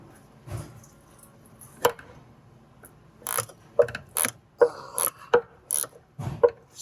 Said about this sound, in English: We'll bring the wrench and we will loosen it with it